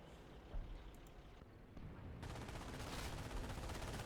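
MG42 machine gun fire in the World War II strategy game Company of Heroes, a dense, continuous rattle of rapid shots that swells louder partway through amid layered battle noise.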